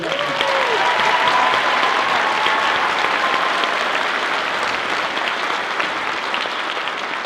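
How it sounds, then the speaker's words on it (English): An audience at a middle school honor band concert applauds a clarinetist with steady, dense, sustained clapping that fills the hall and holds at an even level before easing slightly toward the end. "How about a round of applause for Brianna Marlock, please?"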